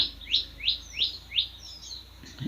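Dove or small bird sitting in a tree, giving a run of five quick, bright chirps at an even rhythm, fairly close and clear, with a faint low thump at the end.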